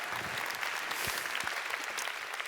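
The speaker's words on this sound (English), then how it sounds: "Let's have a cheer for Jekka." An audience applauds and cheers at an Australia Day opening event, a dense burst of close, continuous clapping with a few louder individual claps, without speech.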